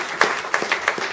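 Round of applause from the crowd at the first Comber Motorbike Show in 2015, light and fairly thin, with a handful of distinct claps standing out over a soft spread of clapping.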